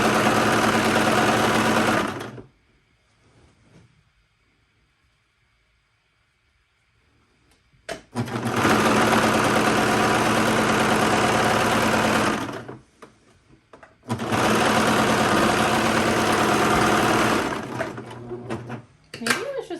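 A sewing machine runs a safety stitch on smocked pants in three loud, steady bursts of rapid mechanical whirring and needle chatter, separated by quiet pauses.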